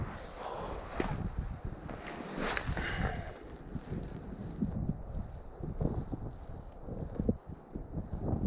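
Strong gusty wind buffets the microphone beside a river during a fishing outing, a steady rumbling roar with surging gusts that fills the whole stretch.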